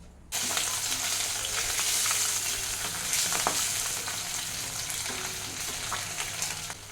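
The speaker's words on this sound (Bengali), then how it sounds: "এখন আমি মাছগুলো ভেজে নেব।" Pabda fish sizzle in hot mustard oil in a kadai, starting abruptly with a loud, continuous crackling fry and a few sharp spatters and stirring clicks, close up and unbroken by speech.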